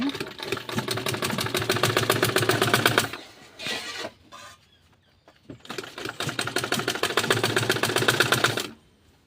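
A sewing machine runs in two steady bursts of rapid, even stitching on pyjama fabric with a beaded design, close and loud, with a short quiet pause of handling noises between the runs.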